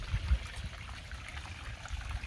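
Water bubbling and trickling in a garden pond among newly placed rocks, a steady soft burble with low splashy churn, heard close and fairly quiet throughout.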